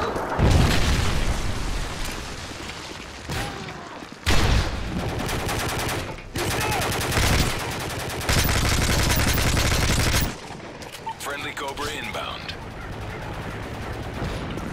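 Predator missile strike and heavy gunfire in Modern Warfare 3 multiplayer: repeated loud booms, bursts of automatic fire and explosions in dense clusters, with a quieter stretch of scattered sounds near the end.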